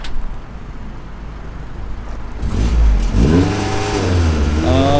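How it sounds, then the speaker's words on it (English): A car with a manual clutch revs hard, the engine note climbing and falling in repeated surges over a low rumble, loud and close with no talking. "You keep revving it, huh?"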